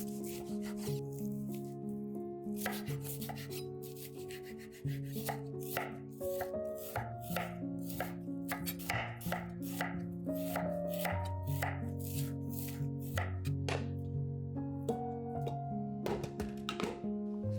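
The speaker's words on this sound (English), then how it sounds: "Cut and cube a 10-ounce steak" A knife cuts and cubes a 10-ounce steak on a board, giving a long run of close, uneven chopping knocks and thuds with background music playing throughout.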